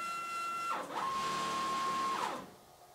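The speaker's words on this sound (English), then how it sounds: "The only thing is that this sheet metal is kind of rattling around." A laser cutter runs with a steady mechanical whir and tonal hum that drops briefly and returns, loose sheet metal rattling faintly throughout before fading near the end; no talking.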